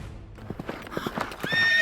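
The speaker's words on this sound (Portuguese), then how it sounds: "Saulo pegou a carta do sumo sacerdote e correu para Damasco a cavalo" A horse whinnies and its hooves clip-clop in a galloping rhythm, a story sound effect for a rider hurrying toward Damascus; the hoofbeats and neighing sound fairly close and stand alone without talk.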